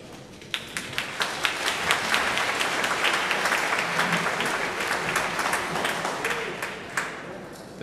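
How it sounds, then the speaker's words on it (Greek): Sustained audience applause at an evening Christmas concert of Byzantine chant fills the room, steady and dense with many overlapping claps from start to finish, with no talk over it. "Δεν ξέρω αν ήταν για μένα το χειροκρότημα."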